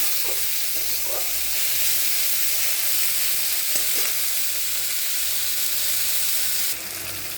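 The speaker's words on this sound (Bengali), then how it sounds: "পেঁয়াজটা হালকা নরম হয়ে গেছে, তো বেশি কড়া করে এটাকে ভাজবো না।" Onions, green chilies and tomato frying in a pan, a constant close sizzle with faint stirring scrapes, growing briefly brighter and hissier near the end; no voices.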